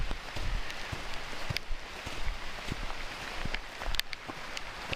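Rain falls steadily on a forest hiking trail in Forestville Mystery Cave State Park, Minnesota, a soft hiss of scattered drops with occasional rustles and footstep-like taps close by.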